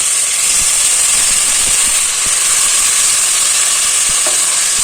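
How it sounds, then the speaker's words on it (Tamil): Soaked rice frying in oil and ghee in a pan, a continuous loud sizzle and hiss with small scraping stirs, no talking. "அப்படியே ஃப்ரை பண்ணிக்கலாம்."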